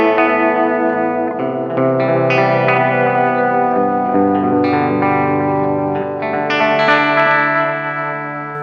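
Electric guitar played through an Xvive Echoman Mini analog delay pedal, a run of clean chords and notes with repeating echoes and slight modulation filling out a continuous, loud wash with no talking.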